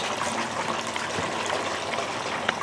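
Water trickles steadily from a leak in a clean-up sluice used for gold prospecting, a close, continuous splashing flow with no talk over it.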